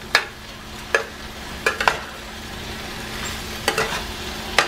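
Steak and potatoes cooking together in a pan on a stovetop over low heat, a soft continuous sizzle broken by a handful of sharp utensil scrapes and clinks against the pan.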